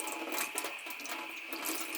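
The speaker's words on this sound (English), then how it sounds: "There's water coming out now." Hot water streams steadily from an open tap fed by hoses in a makeshift plumbing setup, a continuous broadband rush with no pauses, close and moderately loud, no voices.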